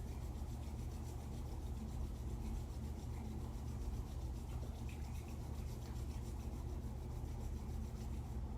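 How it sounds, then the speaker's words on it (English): Palms rubbing together briskly during a kundalini kriya for the solar plexus, giving a faint, continuous dry swishing friction with a steady back-and-forth rhythm, heard alone with no talking. "We're going to start rubbing them and creating internal heat, internal fire"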